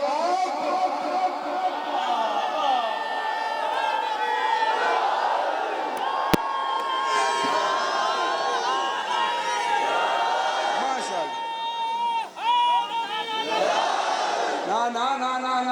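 A large crowd of mourners at a Muharram majlis in an imambargah loudly chants a religious slogan in unison, repeated rising shouts and cheers over a packed hall, with a preacher's voice among them.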